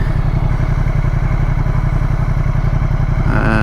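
A 2019 Ducati X Diavel S motorcycle engine thrums steadily and loudly at close range with an even low pulsing throb while being ridden, with no talk.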